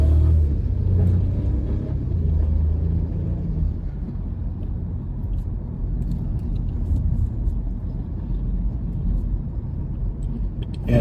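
A Volkswagen Polo TSI with an automatic gearbox pulls away under steady acceleration, its low engine rumble and road noise heard from inside the cabin, loud and continuous with no talk.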